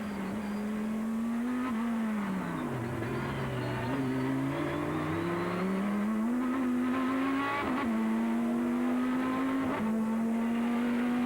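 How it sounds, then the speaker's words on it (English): An on-board race car at a 2001 Super Racing Weekend round at Magny-Cours, accelerating out of the Lycée hairpin: a loud, continuous engine drone that dips, then climbs through gear changes, with brief tyre scrub and no voices. "On board with Jean-Pierre Jarier, exiting the Lycée hairpin."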